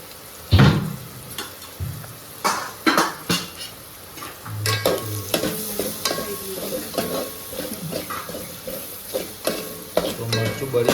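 Chili powder and turmeric frying in a pan with stirring, a spoon scraping and clattering against the pot in repeated strokes over a steady sizzle and hiss, close and fairly loud, with no speech.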